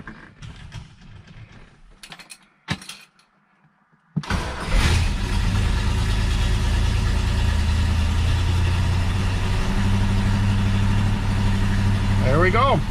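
A 1965 Chevrolet Malibu SS L79 with a 4-speed cranks and fires after some faint clicks and rattles, then settles into a loud, steady, rumbling idle as it warms up, close to the engine.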